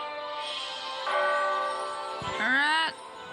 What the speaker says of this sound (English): Alright, there's the bell